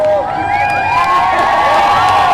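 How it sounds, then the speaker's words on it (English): Outdoor 'No Kings' protest crowd in Belton cheering and whooping, sustained high shouts and whistles from many people at a steady loud level across the whole stretch. "We have some more cheers."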